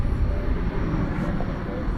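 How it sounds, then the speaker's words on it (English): Airbus A321neo airliner arriving from Las Vegas at DFW Airport at night, a low broad engine roar rumbling steadily at moderate distance, with a voice talking over it. "It's coming in from Las Vegas, flight 1271, an Airbus A321neo."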